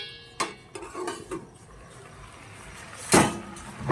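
Lid set onto a pot of cooking vegetables, a sharp clattering clank near the end after a few lighter knocks of utensils, close by.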